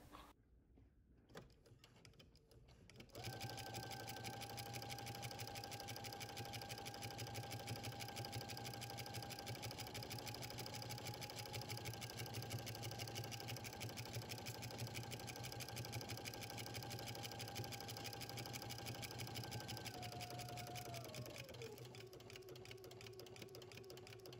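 A sewing machine stitches a wrap front dress from a Vogue pattern, starting after a few seconds of quiet and running as a steady, loud whir with a constant motor hum for about twenty seconds before slowing and winding down.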